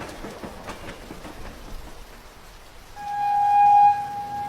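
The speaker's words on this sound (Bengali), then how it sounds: "কড়কড় করে বাজ পড়ল আবার।" Heavy rain and a rumbling thunderstorm over grassland beside a railway line, a steady crackling wash for a few seconds before a loud, sustained train whistle cuts in over it.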